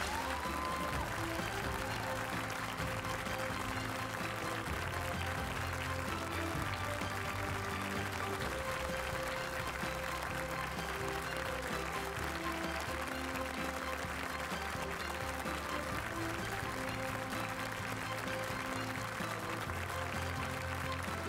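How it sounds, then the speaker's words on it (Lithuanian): Steady, loud applause from a concert audience welcoming guests onto the stage at a Vilnius music school's 50th-anniversary concert, sustained for the whole stretch over a faint tonal background. "jūsų griausmingais aplodismentais pasitikime svečius į sceną"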